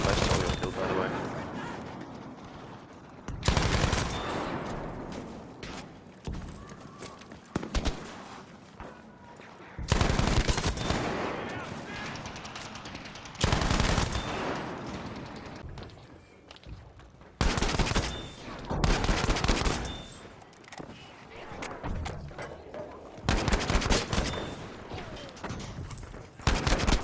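Gunfire in Battlefield V: repeated bursts of rapid automatic fire mixed with single loud shots, some near and some farther off. A player talks intermittently underneath.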